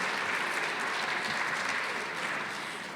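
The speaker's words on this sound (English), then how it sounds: "Let's give a big round of applause to all those people who made today possible." Sustained applause from an audience at an early childhood day event, a dense, steady wash of many hands clapping at a fairly constant level for the whole stretch, easing slightly toward the end.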